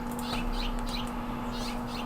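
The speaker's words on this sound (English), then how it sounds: "Those are real birds." Wild birds chirp outside in repeated short tweets, moderately distant, over a steady electrical hum and room noise.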